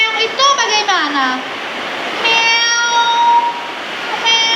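Children's voices imitate a cat's meow in a classroom, drawn-out sliding and wavering calls repeated in a few bursts, close and clear with no real animal present.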